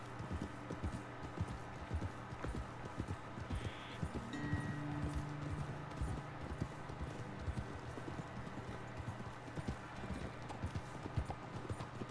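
Horse hooves clip-clop steadily in Red Dead Redemption 2, a quiet, even walking rhythm of several horses with a faint snort or whinny partway through, heard without talk.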